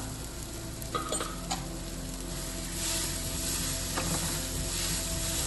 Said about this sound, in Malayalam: അതൊന്ന് മിക്സ് ചെയ്യാം പച്ചമുളക് മാംസം ഇളക്കി കൊടുക്കാം